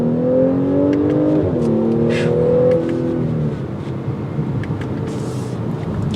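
A 2022 Audi S5 Sportback accelerating hard from a stop, its exhaust note rising through the revs and dropping at a gear change, then settling into a steady, quieter drone as it reaches speed.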